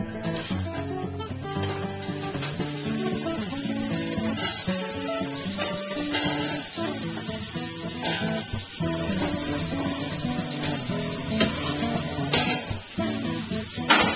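Cubes of fajita meat frying in a pan give a steady sizzle and crackle, overlaid by background music with no voices.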